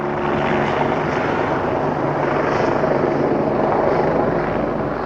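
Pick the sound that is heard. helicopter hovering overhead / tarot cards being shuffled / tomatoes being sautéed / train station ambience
helicopter hovering overhead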